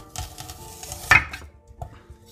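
A knife cuts two medium onions into thin slices on a board, a few soft taps followed by one sharper chop and a quiet later knock, close and with no talking.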